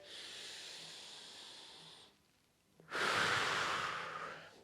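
Slow, deep breathing during a gentle meditative movement routine: a long soft exhale, a brief pause, then a fuller, louder inhale-exhale, close and alone without talk.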